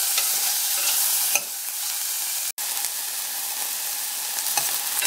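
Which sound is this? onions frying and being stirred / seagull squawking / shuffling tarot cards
onions frying and being stirred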